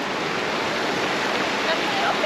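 A waterfall at a swimming spot near Beechworth pours in a steady, loud, broadband rush that fills the whole stretch without a break.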